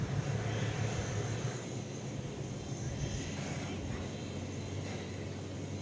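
An 11-year-old UPS Boeing 767 at DFW airport at night, a steady broadband jet roar heard from a distance that stays constant and slightly fades near the start, with no voices.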